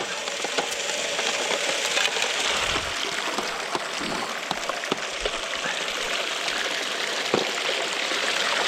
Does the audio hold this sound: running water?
yes